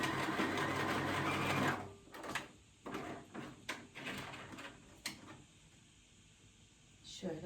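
A sewing machine stitches a blouse in a close, steady whir that stops after about two seconds, followed by scattered clicks and handling knocks, with someone speaking quietly.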